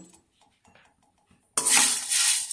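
Tamarind and spices tumble into a dry pan with no oil, starting with a few soft clinks and light taps, then a sudden loud, bright rattle and scrape as they are tossed and roasted over low heat.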